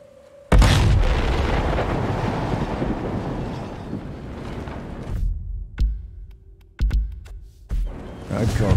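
A V2 rocket explodes in the video game Sniper Elite 5: a sudden loud blast, then a long roaring rumble that slowly fades, followed by several scattered deep thumps and booms.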